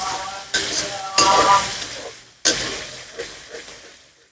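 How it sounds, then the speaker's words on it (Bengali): Turmeric, chili powder and salt spice paste frying in oil in a pan, a steady sizzle broken by scraping stirring strokes of a spoon, close and fairly loud, with no one speaking. "এখন মশলাটারে ভালো করে কষাই দিই"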